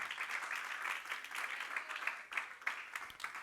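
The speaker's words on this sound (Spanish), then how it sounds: "¿Cuántos le dan palmas al Señor? Dale palmas con ganas." A church congregation clapping together, faint and somewhat distant, a dense patter of many hands with a few sharper claps standing out toward the end.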